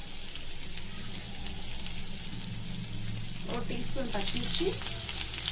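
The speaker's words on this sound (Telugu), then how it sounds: "వేసుకొని ఫ్రై చేయాలి" Ginger, garlic and green chilies frying in hot oil, a continuous close sizzle with stirring scrapes and a voice talking over it.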